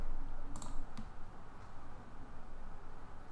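A few sharp mouse clicks in GIMP, one cluster near the start and another shortly after, standing out over a steady, noisy background hum with no one talking.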